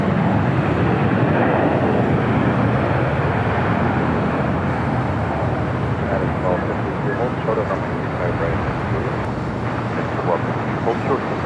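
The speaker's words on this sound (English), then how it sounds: "The 777-300ER heading to the south side for a takeoff." An Air France Boeing 777-300ER airliner taking off at LAX gives a steady, loud broadband jet roar that holds through the whole stretch, with voices talking over it.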